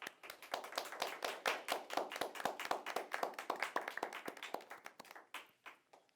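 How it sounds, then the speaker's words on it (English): An audience claps for the winning side at the close of a school debate on organ transplantation, with sharp individual claps in a steady burst that thins toward the end, no talking over it. "Please give them a big round of applause."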